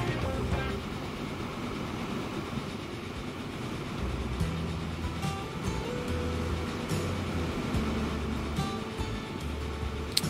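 Several trains rolling over large tracks in the railway simulation game Transport Fever 2, a steady low rumble with faint clattering throughout, joined by brief horn-like tones, with no talking.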